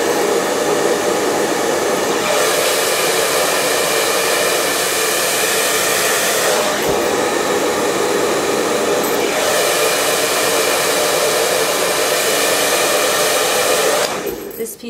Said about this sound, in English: I'm gonna blow dry the hair.